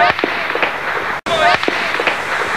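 Police in Zenica, Bosnia, in summer 1993 fire rifle rounds and then tear gas: sharp, scattered cracks and pops at moderate distance, with faint voices in the background.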